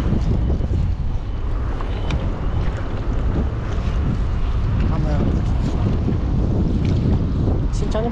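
Strong wind buffets the microphone on a boat at sea, a constant low roar with water and engine rumble beneath, loud and close, with faint talk mixed in.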